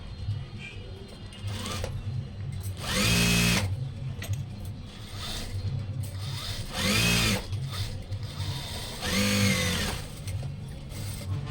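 A sewing machine stitches the second sleeve of a doctor's coat, running in three loud whirring bursts with quieter handling and fabric rustle between them.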